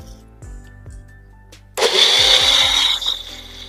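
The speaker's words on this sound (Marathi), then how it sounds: "मिक्सरला फिरवून घ्यायचं।" A mixer grinder blends spinach with green chillies and water, switching on abruptly partway through into a loud, steady whirring roar that holds to the end, after a quiet lead-in with a few soft knocks.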